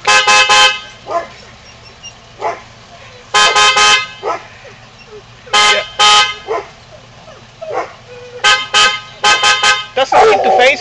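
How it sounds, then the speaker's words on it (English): A car horn sounds in short repeated bursts, loud and near, in uneven clusters of toots. Dogs bark between them and a person talks briefly. "You want to honk the horn, see what they do?"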